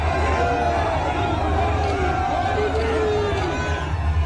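Dense crowd noise along a roadside in Haldwani, Uttarakhand, as the Prime Minister's convoy passes through, a steady loud babble of many voices with faint tonal calls or horns drifting over it.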